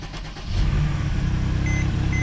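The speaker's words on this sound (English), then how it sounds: "So let's go ahead and get this a start." A 2014 Mercedes-Benz C300 with a misfire starts up in a blizzard: the engine catches after a brief crank and settles into a steady, close idle, with a few faint electronic beeps.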